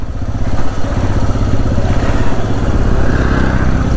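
Two motorbikes ride into Mirik Lake in Darjeeling. A loud, close, steady low engine throb churns on without pause, with no voices over it.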